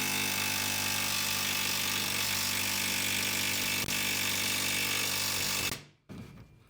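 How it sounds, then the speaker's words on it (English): A grinder cuts off bolts on the rear end of an LS-swapped Camaro during a rear axle swap, a loud continuous grinding whine lasting nearly six seconds before it stops abruptly, close up with no talking. "I got no problem using a grinder. We'll just cut them off."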